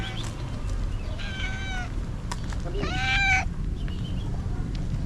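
A stray, slightly battered-looking cat in Egypt meows twice, a short call and then a longer, louder one, while a person nearby quietly coaxes it to come eat over steady outdoor background noise.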